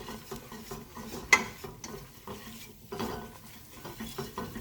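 A runny flour roux for béchamel sauce being stirred in a pan, with quiet scraping strokes, a light sizzle and an occasional utensil clink close by, fairly faint, with no talking.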